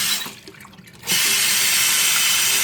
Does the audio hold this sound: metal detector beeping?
no